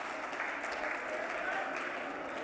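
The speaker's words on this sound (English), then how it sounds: "Can we have a round of applause for them" An audience claps for people being called onto a stage at a short-film premiere event, a dense steady patter of applause filling the whole stretch without a clear beginning or end.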